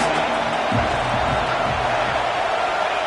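A college football video game stadium crowd roars as a steady, dense wash of cheering noise, constant in level throughout, with faint commentary underneath.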